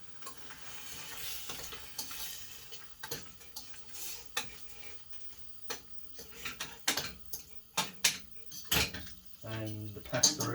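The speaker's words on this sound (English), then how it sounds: "Let's stir this up." Tuna pasta stirred in a metal pot, with a series of clinks and scrapes of a utensil against the pot over a soft sizzle, fairly close, with speech nearby.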